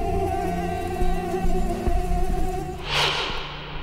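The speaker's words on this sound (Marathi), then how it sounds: "पुण्यातल्या मुंडव्यात डासांचं वावटळ" Swarm of mosquitoes over a riverside area in Mundhwa, Pune, a steady, loud, close whine that holds throughout with a brief gust of noise near the end, no talk.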